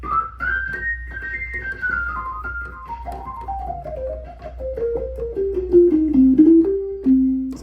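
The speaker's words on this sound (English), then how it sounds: "So that's the sound of the percussion only." Percussion voice on the upper manual of a Hammond A-102 organ played through a Leslie 145, a clear solo line of short tones stepping downward in pitch over a steady low hum, no talk.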